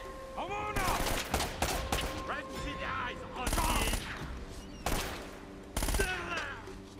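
Bursts of gunfire from the action game Uncharted: Drake's Fortune come in several loud clusters of rapid shots, separated by quieter gaps with game sounds and voices.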